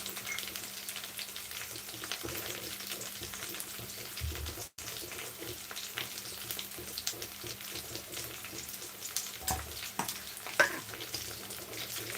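Mint leaves fry in a pan with a soft, continuous sizzle and stirring scrapes, fairly quiet and close, with a brief dropout partway and no talking.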